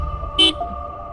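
A car horn gives one short, bright toot on a broken off-road mountain road near Jogighat in North Bengal, over a low engine hum inside the vehicle.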